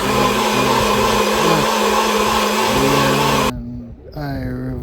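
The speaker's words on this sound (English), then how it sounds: "Yeah, so plug in the blender." A kitchen blender whirs loudly and steadily as it blends plantain for Jamaican porridge, the motor noise filling most of the clip before cutting off abruptly, followed by a brief whirring restart.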